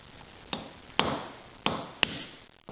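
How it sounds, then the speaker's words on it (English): Hammer striking a chisel against a front wheel drive wheel bearing, four sharp metallic clanks at an uneven pace, moderately close with a short ringing decay after each blow. "we'll take a whack at it with the chisel and hammer"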